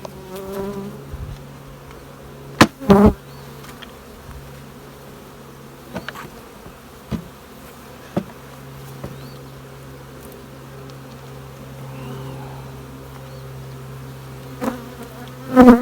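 Steady insect buzzing of honey bees at a nucleus hive, a continuous drone with a few sharp knocks and thumps scattered throughout.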